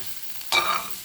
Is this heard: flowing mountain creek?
no